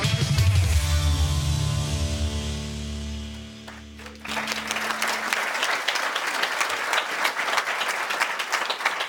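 An awards banquet crowd breaks into steady applause from a large audience after a stretch of sustained music, the clapping dense and even until the end, with no voices over it.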